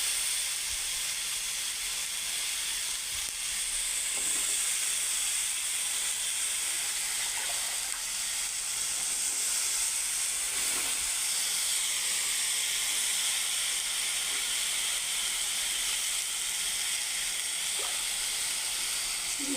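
Vegetables frying in a hot pan while cooking vegetable noodles, giving a steady, loud hiss and sizzle throughout with faint clinks, and no talking.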